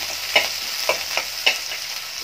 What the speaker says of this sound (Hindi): अदरक और लहसुन डाल के बस इसको अब हम थोड़ा थोड़ा चला देंगे